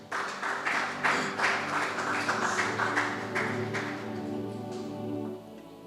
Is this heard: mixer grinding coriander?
no